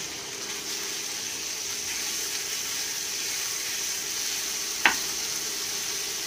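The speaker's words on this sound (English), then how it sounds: "Now we're just going to start frying our hamburger." Hamburger meat fries in melted butter in a pan, giving a steady, even sizzling hiss throughout, broken once by a single sharp tap near the end.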